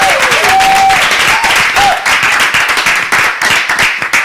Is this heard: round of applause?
yes